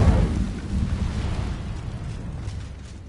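A fire spell cast in Hogwarts Legacy, a wizarding video game: one deep, rumbling burst that swells at the start and then fades into a long, low roar of flame.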